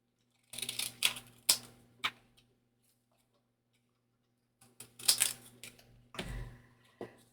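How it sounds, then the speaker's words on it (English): Scissors snip a small piece of acetate in a craft studio, a few close, crisp cuts in two bursts separated by a quiet pause. "Let me just grab my scissors, and we'll cut a little piece of acetate."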